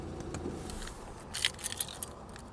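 BMW car keys jangle close by, a few bright metallic clinks and rattles arriving in quick succession over a quiet background.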